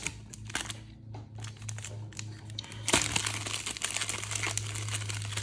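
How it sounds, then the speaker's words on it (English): Foil packs of 2023 Bowman baseball cards being torn open, with crinkly crumpling and ripping close to the mic over a steady low hum, growing busier and louder in the second half. "These packs are fairly easy to open."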